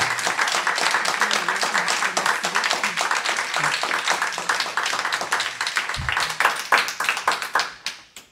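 Sustained applause from a crowd at a Plateau-Mont-Royal borough council meeting: dense, steady clapping that thins into scattered claps near the end, with faint voices underneath.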